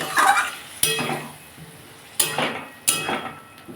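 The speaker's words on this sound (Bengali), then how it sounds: "আর আমি এখানে একটু টক দই জল দিয়ে ফাটিয়ে রেখেছিলাম সেটাও দিয়ে দেবো দিয়ে ভালো করে কষে নেব" A pan of fish curry with potato and pointed gourd is being sautéed after yogurt water goes in, giving a low sizzle under three sharp clinks of a spoon against the pot, with stirring scrapes between them and no voices.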